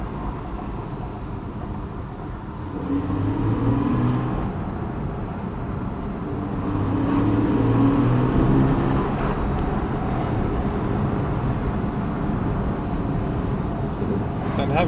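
A Porsche 911 991.1 Targa 4S engine accelerating in sport mode, a steady low droning growl that swells and eases as revs rise, heard from inside the car with road noise and no talking.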